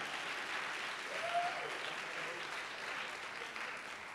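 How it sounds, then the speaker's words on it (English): Applause from an audience at a university awards show, a steady wash of clapping that continues for the whole stretch at moderate volume with no pauses. "clap it up, that's a good thing."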